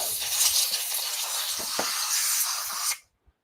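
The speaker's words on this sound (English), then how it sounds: "use air compressor. Pneumatic air. Blow all the dust out." Compressed air from a pneumatic blower clears dust off a woodturning lathe chuck: a loud, steady, close hiss runs for about three seconds, then cuts off abruptly into near silence.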